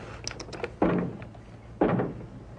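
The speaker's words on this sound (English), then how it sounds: "Knock twice if I'm not the first." Two dull knocks on wood, spaced about a second apart, heavy and close, following a few faint light taps.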